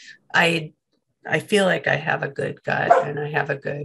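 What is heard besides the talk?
dogs barking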